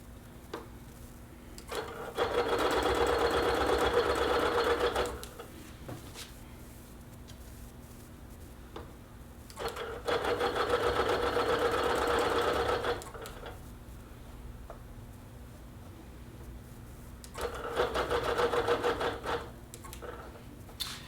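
A sewing machine stitches while basting a quilt top with a ruler, running in three sustained bursts of a few seconds each, separated by quiet pauses when it is switched off.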